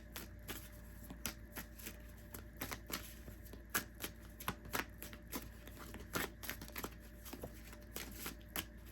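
Tarot cards from a Divine Guidance deck being shuffled close up, a steady run of crisp riffling slaps and flicks with no voices.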